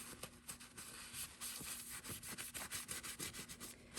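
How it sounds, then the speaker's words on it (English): Paper towel wiping sanding dust off a small sanded piece, quick rhythmic rubbing and scuffing strokes, close and fairly soft, with no talking. "Take your paper towel and wipe any dust away that you created while sanding."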